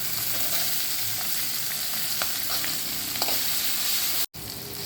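Chili, capsicum and onion fry in a pan with curry leaves and peanuts, giving a steady, loud broadband sizzle with occasional faint clinks of stirring and one brief dropout near the end.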